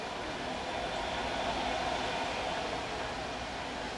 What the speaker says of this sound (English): And there goes the train